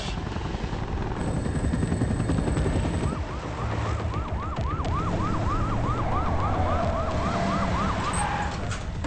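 An ambulance siren wails in a rapid, repeating rise-and-fall pattern over a dense rumble of engine or rotor noise in a film scene, loud and close for several seconds.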